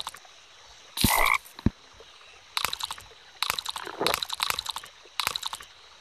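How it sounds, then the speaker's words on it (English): Repeated short croaks and chirping bursts from a lime frog in the Pocket Frogs phone game, arriving in quick clusters with brief gaps and one louder burst near the start. "The lime frog."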